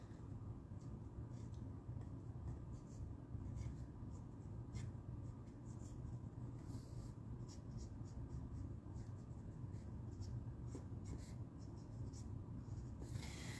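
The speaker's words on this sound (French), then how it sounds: "Là, je vais essayer de colorier vite sans dépasser." Colouring quickly on a papercraft card makes a continuous, faint scratchy rasp of marker or pencil on paper, steady and close.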